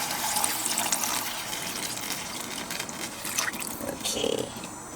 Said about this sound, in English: pour in, this one today is about 1 liter of water